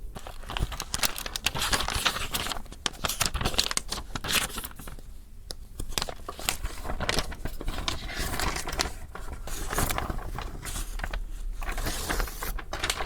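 Continuous crinkling and rustling of a paper sewing pattern for a winter coat being handled up close, with steady rough crackles throughout.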